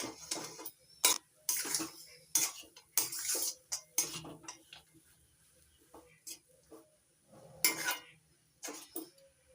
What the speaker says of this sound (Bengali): এবার দিয়ে দিচ্ছি ভেজে নেওয়া কাজু বাদাম আর বাদাম ভালো করে মিশিয়ে নিচ্ছি